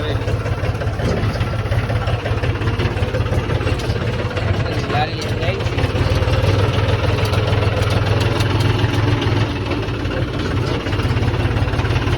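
A tractor engine idles steadily on a farm during onion harvesting, with a low, continuous rumble throughout, while people talk over it.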